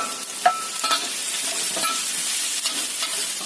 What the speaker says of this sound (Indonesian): Tumis sampai lagi ya. Masukkan bawang putih dan juga cabenya.